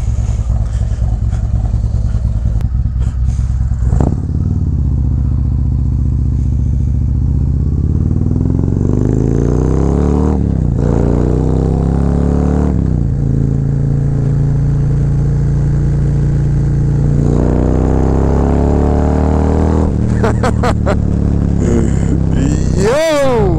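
Harley-Davidson Road Glide motorcycle fitted with a Feuling 465 cam, riding with a loud, close V-twin engine rumbling through repeated rev rises and gear changes, ending in a sharp throttle blip.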